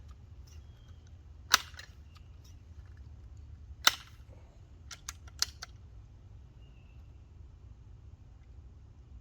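A gun test fired outdoors, with three sharp distant-sounding shots at irregular gaps and a few fainter clicks between them over a quiet low rumble.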